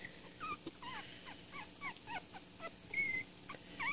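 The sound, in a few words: puppies whimpering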